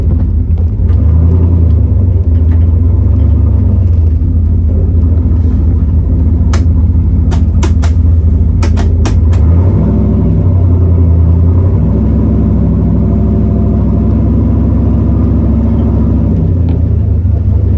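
A turbocharged 4.8 Chevy S10 pickup with a TH400 transmission rolls along in first gear, its deep engine rumble steady and loud throughout, with a few brief rattling clicks partway through.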